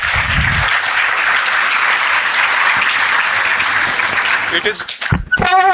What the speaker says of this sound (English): Can we have a huge round of applause for sir, please?